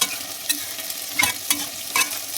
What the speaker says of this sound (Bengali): পেঁয়াজটা লাল লাল করে ভেজে নিচ্ছি